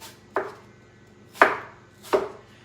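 A knife slicing through apples on a cutting board, three crisp, distinct cuts spaced about a second apart, each a sharp crunch with a quick fade, close and clear with no voices.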